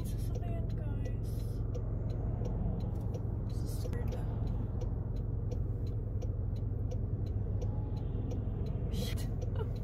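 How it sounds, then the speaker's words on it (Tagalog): Heavy road traffic on a busy American street, a steady low roar of many cars and buses rolling past with occasional louder passes, continuous throughout with a voice murmuring faintly underneath. "daming sasakyan, guys"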